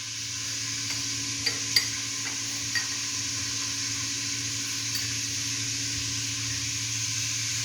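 Onions added to hot oil in a kadai and stirred with a spoon while making pasta, giving a steady close sizzle with a few light scraping clicks and no talk.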